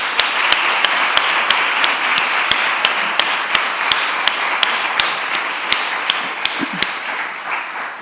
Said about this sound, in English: just another round of applause for the entire panel.